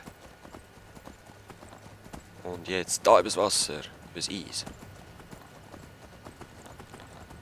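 Rhythmic clip-clop of a horse galloping in the video game Skyrim runs steadily under someone talking, with the hoofbeats continuing after his voice stops.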